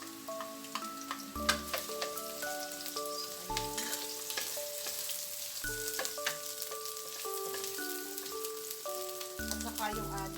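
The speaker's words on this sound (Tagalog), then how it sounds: "idagdag at igisa natin yung ating garlic. Dagdag na rin natin yung ating onion." Garlic and onion sautéing in a pan for boneless bangus cardillo give a soft sizzle and stirring clicks, mostly under background music.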